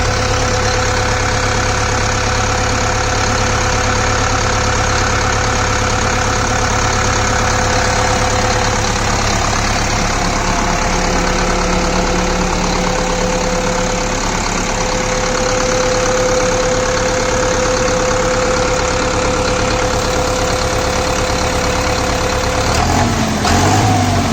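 Deutz-Fahr Agrolux 80 special creeper 80hp 4WD tractor engine, started and left running: a loud, continuous diesel rumble with a steady knocking idle and a hum that holds even, shifting slightly near the end.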